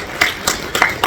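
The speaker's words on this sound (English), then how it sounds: "give her a giant round of applause" Sparse claps ring out from a convention audience at a furry fandom event, a few distinct hand claps over a faint murmuring room.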